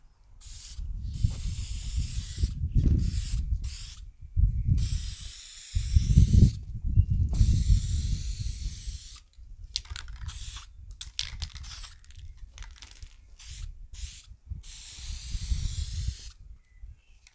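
Spray gun applying primer onto a car: repeated hissing bursts of aerosol spray, some long and some short, separated by brief silences, close and fairly loud with no talking.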